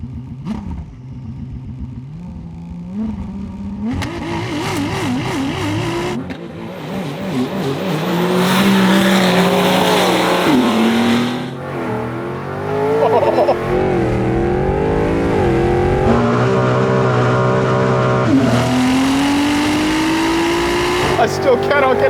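A Ferrari 296 GT3 race car and a 1200 hp RAM TRX drag race side by side, loud engines revving hard through rising sweeps and abrupt gear changes. A voice talks over the engine noise at times.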